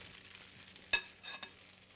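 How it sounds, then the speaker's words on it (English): Faint, soft sizzle of food frying in a pan while making stuffing waffles, with a brief clack of a utensil partway through; quiet and without talk. "You hear that sizzle?"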